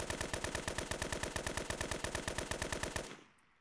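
An AK-74U in the video game Fallen fires one sustained fully automatic burst of about three seconds, rapid evenly spaced loud shots that stop abruptly, followed by a short fading tail.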